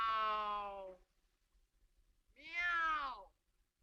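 A man imitates a cat's meow as a signal, with two drawn-out, clear meows separated by a short pause, close and fairly quiet, heard from The Adventures of Tom Sawyer (1938).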